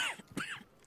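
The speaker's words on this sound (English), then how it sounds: "Stop coughing, Arthur." A character coughs in a few rough, hacking bursts, close and fairly loud, with short pauses between them, in Red Dead Redemption 2.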